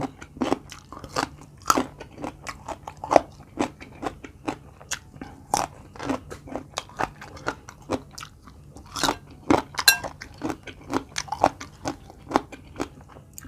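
Crunchy purple eggplant is bitten and chewed close to the microphone, with a steady series of crisp crunches and chewing sounds and no talk.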